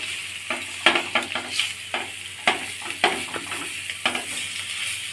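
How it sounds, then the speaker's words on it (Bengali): Boiled, mashed potato gets stirred into onions frying in a pan for a savoury snack stuffing: a steady hiss of frying broken by rhythmic spatula scrapes and knocks roughly every half second, close up. "ম্যাশ করা আলুটা মিশিয়ে নিব"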